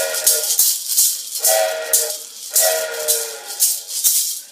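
A musical imitation of a train, played as an improvised piano outro, repeats rhythmic chugging bursts with whistle-like tones in a regular pulse, fairly loud and close, with no speech.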